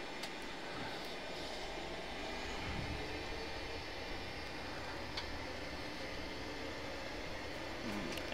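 Boeing 737-800 jet engines spool up for takeoff in a flight simulator, a steady broadband roar with low rumble that holds level and swells slightly toward the end, no voices.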